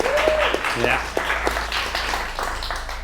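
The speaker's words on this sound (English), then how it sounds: "So maybe we can just give Alex a round of applause." An audience gives a round of applause for guest Alex Phillips at a talk on wellbeing, steady clapping running the whole time with a voice briefly speaking over it.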